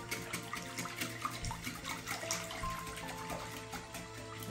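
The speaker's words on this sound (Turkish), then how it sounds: "Biraz daha su ilave edeyim." Water runs steadily into a cooking pot while making homemade tripe soup (işkembe çorbası) with lemon, a continuous close splashing stream with no talk.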